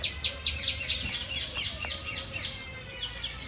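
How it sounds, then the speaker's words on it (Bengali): Morning birds calling around a village house, a quick series of bright, rhythmic chirps repeating over steady background ambience, fairly faint and somewhat distant, no talking. "আমার বাড়িতে যে পাখির ডাক,"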